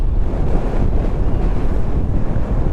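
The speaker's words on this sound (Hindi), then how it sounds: "ठंड लगनी शुरू हो गई है, तेज़ हवाएं लगनी शुरू हो गई हैं" Strong wind roars and buffets the microphone in a loud, constant low rumble with no other sounds, on a cold, high mountain road near a hairpin bend.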